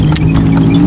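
Hooves of a one-year-old horse from a stable clip-clop on hard ground at a traditional andong carriage outing, a few quick close steps over a loud, steady low rumble.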